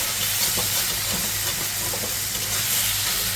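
Smoked pork frying in a pan, Naga style, gives a steady, loud hiss and sizzle that holds evenly from start to finish with no voices over it.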